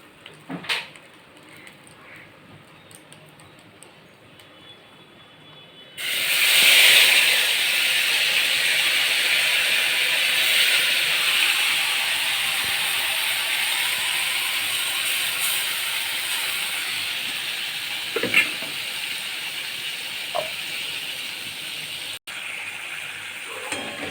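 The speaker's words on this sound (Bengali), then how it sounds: "মাছের ঝালটা একটু ভালো করে কষিয়ে নেব মশলাটাকে।" Spice paste for a fish curry sautéing in a pan, a steady loud sizzle and hiss that starts abruptly partway through and holds to the end, with occasional stirring scrapes over it.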